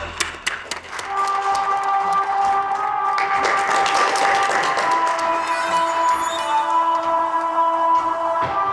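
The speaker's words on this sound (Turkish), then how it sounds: "Hadi alkış, hadi." Wedding guests burst into applause after a few loud opening claps, with steady, dense clapping filling the room for several seconds alongside a faint sustained musical tone.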